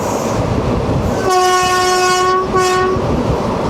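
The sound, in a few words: Bilaspur–Ernakulam Express train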